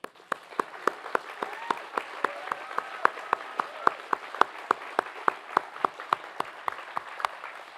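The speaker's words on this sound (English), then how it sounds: "Class of EMBA, MBA, and MCB 2026, please rise. We'd like to congratulate and applaud you." Sparse, spaced-out clapping for a graduating EMBA, MBA and MCB class at a business school convocation: distinct individual claps in a slow, steady rhythm over a hall ambience, with a voice talking faintly in the background.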